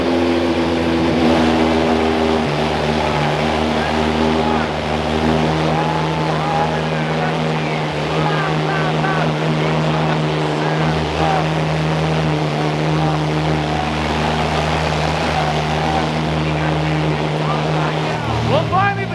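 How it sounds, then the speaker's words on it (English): Ferrari 812 Superfast V12 settling from a cold start into idle, a deep steady rumble with a layered mechanical hum, close and loud throughout, while someone talks over it. "finally the cold start is starting to settle right there, but the idle sounds really, really healthy, really, really good."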